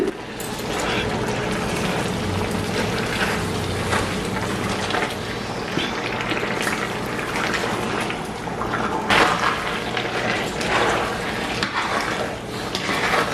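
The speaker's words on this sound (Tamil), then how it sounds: "இன்னும் கொஞ்சம் கிண்ட இருக்கு. இப்போ 3 மணித்தியாலம் 50 நிமிஷம் கிண்டி கொண்டிருக்கிறேன்." A thick Sri Lankan rice flour dodol is stirred in a pot after nearly four hours of cooking, giving a continuous close scraping and bubbling sticky churn with faint background noise.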